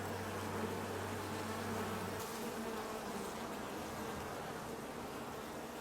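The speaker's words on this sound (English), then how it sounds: "See, I got the bees going in and out." Honey bees buzz steadily around the entrance of a hive, a dense continuous drone with a lower hum at first and no voices.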